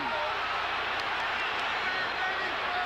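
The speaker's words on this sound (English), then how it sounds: "The crowd feels a victory for Ali. They're starting to chant, Ali, Ali." Arena crowd at the Muhammad Ali versus Leon Spinks rematch, a dense, continuous roar of thousands of voices with a faint rhythmic chant rising through it and a commentator speaking over the top.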